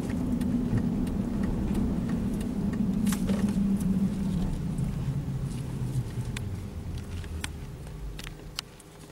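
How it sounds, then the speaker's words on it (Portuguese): A Volvo XC60 with an automatic transmission and a transmission-fluid leak pulls away, its low engine rumble steady at first and then fading as the car moves off, with a few light clicks and no talking. "vou mostrar pra vocês o carro saindo."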